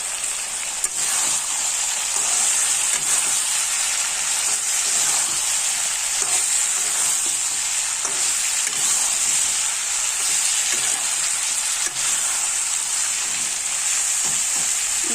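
Food frying with a bright, continuous sizzle and hiss in a hot pan, with faint stirring scrapes underneath, close and steady throughout.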